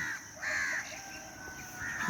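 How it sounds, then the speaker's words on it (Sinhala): Crows caw in Jaffna, Sri Lanka, as day breaks: several hoarse, drawn-out calls repeat in loose bursts at moderate distance over a steady outdoor hiss, with no talking. "මේ ඉන්නේ කපුටෝ."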